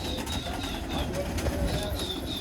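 Pigeons cooing inside a loft net where several hundred birds are kept, a steady low murmur of coos with faint chirps and occasional wing flutters, continuous and close.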